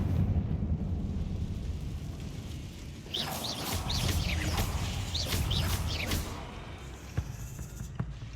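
The Confringo fire spell from Hogwarts Legacy bursts in a cluster of crackling blasts with sharp chirping bits, mid-distance and moderately loud, over a low rumbling game ambience.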